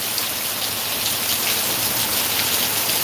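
Steady, dense downpour of heavy rain in Degloor, hissing continuously on surfaces, loud and unbroken, with no voices.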